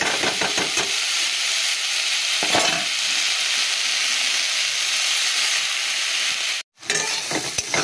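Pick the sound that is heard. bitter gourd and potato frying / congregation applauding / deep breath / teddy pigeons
bitter gourd and potato frying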